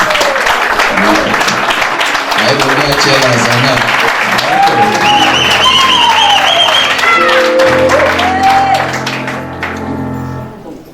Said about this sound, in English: clap hands for the groom's family